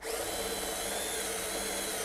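An electric drill spins steadily through a pitot hole in an aircraft wing, a loud, continuous whirring grind close up for the whole brief moment.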